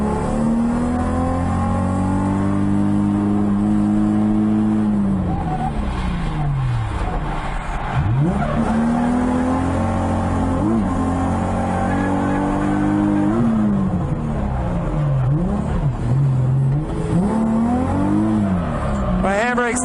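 A stock Nissan 350Z with VQ engine and brand-new front tires drifts around Road Atlanta, engine revving and falling in waves with tires scrubbing and squealing, heard close from inside the car while a person talks.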